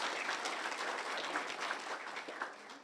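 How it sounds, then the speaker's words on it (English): Fairly quiet, distant applause from an audience at an education awards event, a soft continuous patter of clapping that tapers slightly toward the end. "Let's give him a round of applause."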